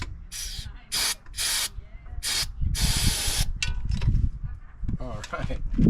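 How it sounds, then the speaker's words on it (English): Short bursts of liquid spraying from a squirt nozzle, several separate hissing puffs followed by a longer spray, with quiet speech and handling noises between them. "let's see if I can squirt some in there without blowing up my face"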